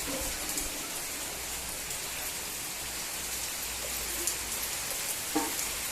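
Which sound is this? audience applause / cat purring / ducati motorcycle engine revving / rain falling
rain falling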